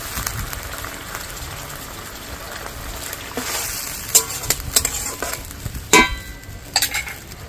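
Spice-paste rinse water poured into a hot frying pan for a vegetarian aloo dum sets off a soft, steady sizzle, broken by sharper hisses and clinks of stirring, close by.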